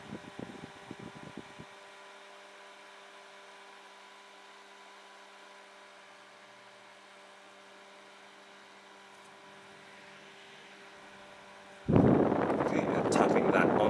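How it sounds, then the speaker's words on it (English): An Etmury mini fan runs at its maximum setting, a steady low whirring hum with faint tonal whine, sustained and fairly quiet before a sudden loud burst of handling noise near the end. "now it's at the maximum fan speed, number 3, and still blowing quite nicely"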